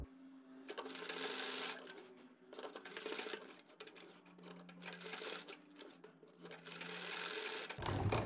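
Sewing machine stitching a tabeez (placket) neckline, running in steady bursts of rapid needle clatter with brief pauses, close and fairly loud, with no talking.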